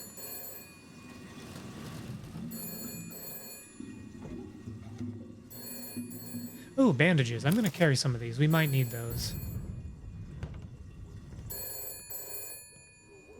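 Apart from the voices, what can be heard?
telephone ringing in the video game Shadows of Doubt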